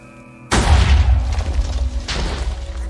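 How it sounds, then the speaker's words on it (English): Minecraft redstone cannon firing in the video game: a sudden loud boom with a deep thud, followed by a second fainter blast about one and a half seconds later, with low background hum before. "we're gonna turn this lever on and it's gonna shoot that off like a cannon"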